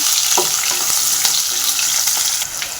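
Chopped medium onion sizzling in hot oil in a pan, with steady crackling frying noise and occasional scraping stirs, fairly close and continuous throughout.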